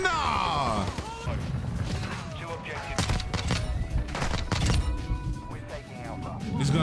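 Rapid game gunfire from Modern Warfare 2 rattles in dense bursts with crashing impacts, loud and close throughout, while players talk excitedly over the shooting.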